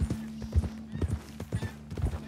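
Horse hooves clip-clopping at a steady walking rhythm in Red Dead Redemption 2, a clear repeated pattern of hollow thuds with a low hum beneath.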